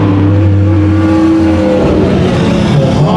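A race car roars loudly on the Bakersfield Speedway track, its engine note holding and then shifting as it drives past, with other engines blending in close by.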